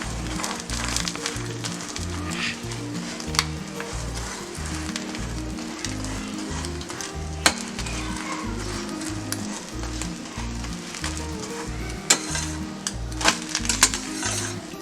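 A roti with omelette fries in a pan for an egg roll, a steady close sizzle with a pulsing rhythm, occasional spatula taps and clicks against the pan, no talking.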